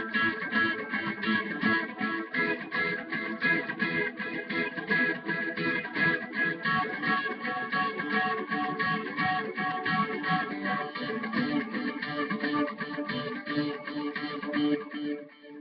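Electric lead guitar run through effects plays a worship part as a continuous, dense stream of sustained, shimmering notes with rapid repeated picking, steady and fairly loud throughout.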